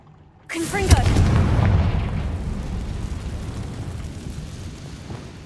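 Loud blast from a Confringo spell in Hogwarts Legacy. A sudden sharp burst is followed by a rumbling explosion that slowly fades over several seconds.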